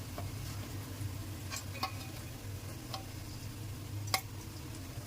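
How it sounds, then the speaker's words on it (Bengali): Onions fried crisp are lifted out of sizzling oil, with a steady low sizzle running throughout and a few faint scattered ticks and clinks of a utensil. "এখানে আমি পেঁয়াজ বেরেস্তাগুলো উঠাই নেব।"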